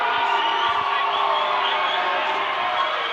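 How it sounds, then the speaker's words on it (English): A basketball crowd at a Baker versus McGill game roars steadily and loudly, cheers and boos blending into one continuous wash of voices with no pause. "got half of the side cheering and the other half booing"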